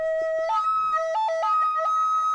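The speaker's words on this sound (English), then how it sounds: "That's almost like an ambulance going past." A siren wails in stepped two-tone alternation, loud and close with clear repeating high and low notes, resembling an ambulance going past; no talking.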